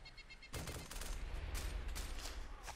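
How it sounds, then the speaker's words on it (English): Gunfire in the ARMA 2 DayZ Mod game, a fairly distant rolling run of shots that starts after a brief pause and continues as a dense, muffled volley through the rest of the moment. "He's shooting."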